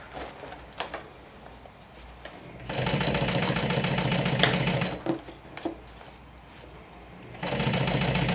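A home sewing machine stitches thread-matched bias tape binding onto a makeup bag, running in two steady, loud whirring bursts separated by a pause of quieter handling noises.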